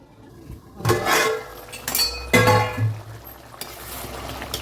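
Metal lid set down over a pot of simmering Tamil drumstick kara kuzhambu, with a few close clinks and clatters of cookware over a low bubbling frying hiss, no talk.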